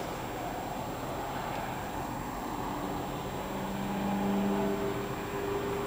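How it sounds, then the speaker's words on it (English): Road traffic along Airline Highway in Prairieville, Louisiana, a constant broad roar of passing vehicles with a faint engine drone swelling near the end, heard from roadside with wind on the microphone. "the amount of traffic coming down Airline Highway"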